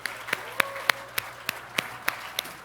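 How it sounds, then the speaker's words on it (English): A concert audience claps in a light, evenly spaced rhythm of sharp hand claps, fairly close and distinct rather than a dense roar, with faint voices beneath. "So let's just give him one more time a big round of applause."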